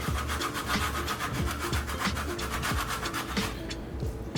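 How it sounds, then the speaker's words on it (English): A block of Parmesan is rubbed over a cheese grater for carbonara, giving a close, steady run of rasping strokes in a quick repeating rhythm that thins out at the end. "grab our cheese grater and our Parmesan. And grate that right on top."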